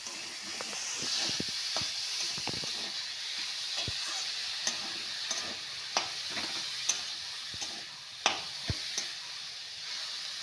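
Boiled cabbage is stirred into a fried spice masala in a pan, with a steady soft sizzle under repeated spatula scrapes and sharp taps against the pan, close and fairly quiet with no talking.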